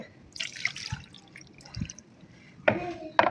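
Water is poured into a pan of vegetables for avial, with soft drips early on, then two brief splashing pours close by in a quiet kitchen.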